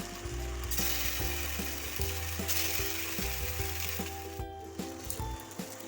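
Flattened rice tiffin, with mustard seeds, curry leaves and Kashmiri chilli powder, is stirred in a frying pan, giving steady sizzling under repeated scraping, rattling strokes, close and fairly loud throughout.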